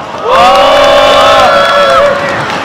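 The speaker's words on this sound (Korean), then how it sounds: "감사의 박수 부탁드립니다" A crowd at an outdoor rally cheers and claps loudly all at once, a dense sustained roar of many voices with shouts rising above it, fading slightly toward the end.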